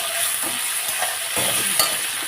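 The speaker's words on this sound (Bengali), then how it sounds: "তেলের উপরে শুকনো লঙ্কা তেজপাতা দিতে ভুলে গেছি, তাই এখন দিয়ে নিলাম।" Dried red chillies and a bay leaf crackle in hot oil, with shrimp already fried for a pointed gourd and prawn curry. A dense, steady sizzle runs close throughout, with a few sharper pops and stirring scrapes, and no voices.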